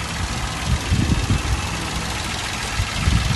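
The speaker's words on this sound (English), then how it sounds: "the engine's been running obviously since we started. Nice little compact engine." A compact 62-plate Toyota Aygo engine idles steadily up close, a continuous low rumble with no bangs or rattles, heard alone without voices.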